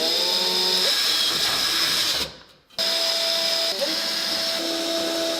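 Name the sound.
vacuum cleaner running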